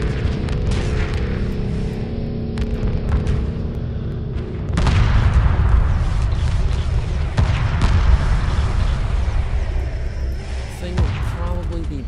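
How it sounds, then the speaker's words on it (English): Anti-aircraft flak fire in the space strategy game Homeworld 2, heavy booming bursts over a constant loud rumble of battle, with radio voices from the game over it. "now it's taking some flak"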